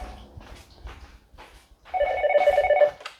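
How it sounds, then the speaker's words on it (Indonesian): A telephone rings in a home, a loud warbling electronic trill that bursts in after some soft shuffling and background sounds, ringing for about a second before cutting off. "tadi telepon loh"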